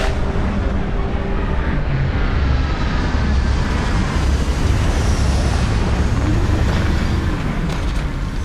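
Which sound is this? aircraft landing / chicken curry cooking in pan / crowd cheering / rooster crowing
aircraft landing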